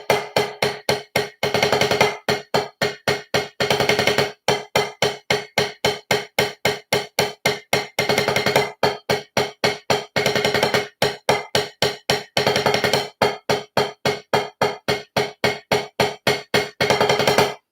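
Single-stroke sextuplet drum practice sounds as a long run of sharp, evenly spaced close hits at a steady moderate pace, with brief denser bursts of quicker strokes recurring every couple of seconds.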